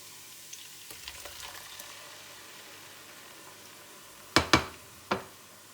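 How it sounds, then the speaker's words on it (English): Onions fry in a pot on an electric cooker for Nigerian chicken stew, a soft low sizzle that builds faintly, then three sharp knocks or splashes close together near the end as a blended pepper mix goes in. "now that the onion is fried to an extent, I just go on and add the blended pepper mix"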